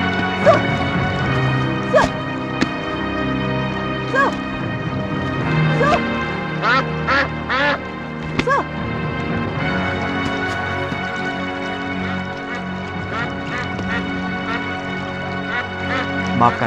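A bird that can talk like a person calls in a scene from the Indonesian fantasy drama Angling Dharma. Its repeated quacking calls mix with steady music and occasional sharp sound effects throughout.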